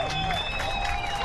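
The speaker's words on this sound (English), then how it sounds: "the crowd's starting to get behind them." A crowd at a paintball match cheers and claps, a loud mixed roar of voices and applause running steadily through the brief moment.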